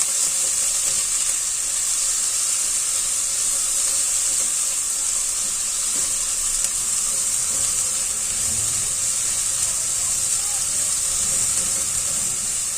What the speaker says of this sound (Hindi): मिक्स करेंगे और इसे थोड़ा पकने देंगे।